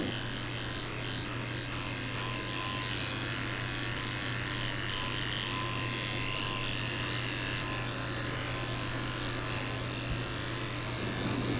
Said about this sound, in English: I'm shaving out the inside of her back legs with a 7 blade, which is pretty short.